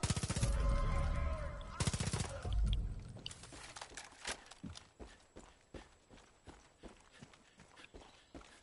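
Rifle fire in Far Cry 5 opens with two loud, sustained bursts, then gives way to a spaced run of sharper single shots or impacts that fade toward the end.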